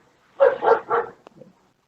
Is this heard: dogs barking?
yes